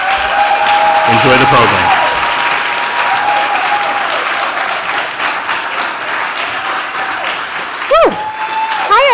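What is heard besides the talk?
audience applause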